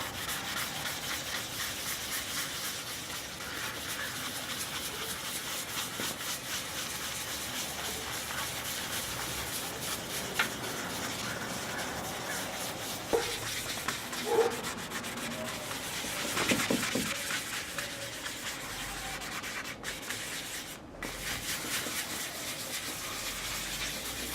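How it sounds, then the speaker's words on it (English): Continuous soft scratchy rubbing of sanding dent filler with a fine foam block on a Suzuki GS550 cafe racer, steady back-and-forth strokes with a few louder knocks, close and alone without talk. "we're just going to take the fine foam block and rough everything up"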